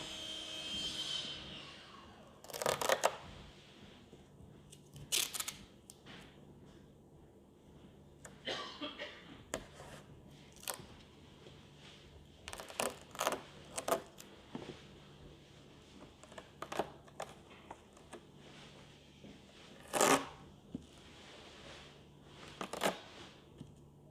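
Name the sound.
masking tape being pulled and applied to outline an area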